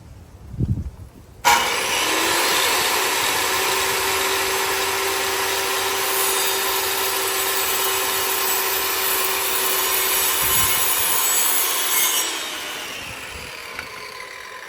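Power saw cutting PVC trim pieces outdoors, a loud steady cutting roar starting after a brief quiet lead-in and running nearly the whole clip, with wind noise and no talking.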